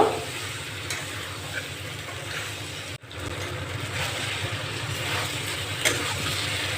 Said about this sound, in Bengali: মটরশুঁটিটাকেও মশলার সঙ্গে ভালো করে কষিয়ে নেব